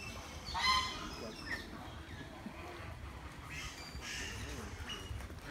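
Geese or ducks honk in a few brief bursts against noisy outdoor background in Puerto Vallarta, Mexico, with voices faintly mixed in.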